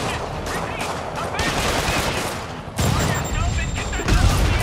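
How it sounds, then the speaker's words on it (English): Rocket launcher blasts and gunfire from armed enemies inside a prison in the Marvel's Spider-Man game: continuous loud bursts and explosive hits, with a sharp new impact partway through and a high electronic tone after it. "Oh, I just got rocketed in the face."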